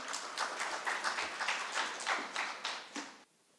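A round of applause for a speaker at a business talk on AI in HR: faint, distant clapping from an audience in steady rhythmic bursts for about three seconds, then stopping abruptly into quiet.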